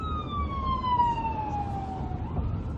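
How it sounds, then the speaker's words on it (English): An ambulance siren sweeping steadily downward in pitch as it passes through traffic, loud and close over a rumbling engine and road noise, heard from inside a Ford F350 pickup cruising in Dallas. "Hey, you got an ambulance, you might want to get out of the way"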